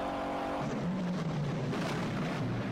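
In a Steve McQueen film car chase with a green car, engines roar steadily and loudly with brief tire squeals, a constant close driving din with no talk.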